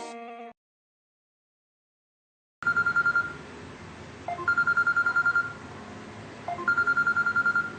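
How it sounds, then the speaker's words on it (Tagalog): A telephone rings with an incoming call in a home kitchen, its electronic ring tone repeating in three bursts after a short tone and a pause of silence, fairly close and loud. "Oh, tumatawag na yung kumari ko sa Madyungan."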